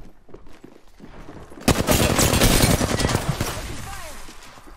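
Rapid automatic gunfire rattles out in the video game Apex Legends, a loud dense burst of shots lasting about three seconds after some quieter game noise, with a voice speaking faintly underneath.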